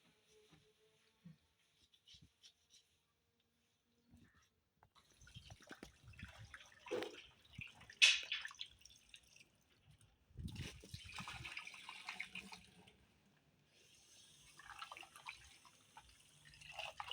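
Tap water runs while fresh vegetables are washed during home cooking for a family meal, with intermittent splashing and gushing bursts, dripping and trickling between them, fairly close and moderately loud with no talk.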